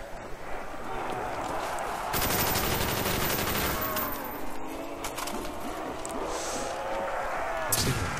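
Bursts of gunfire from a pump-action shotgun in a zombie video game crackle loudly and densely over a continuous din of game noise, without speech.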